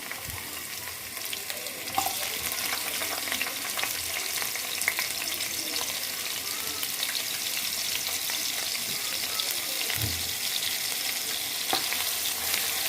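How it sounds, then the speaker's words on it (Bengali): Constant, dense sizzling of chopped onion frying in hot oil, close and steady throughout, with a few light scrapes of stirring. "তেলটা গরম হয়ে আসলে দেব পেঁয়াজ কুচি"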